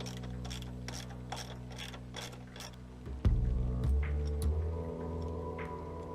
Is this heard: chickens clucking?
no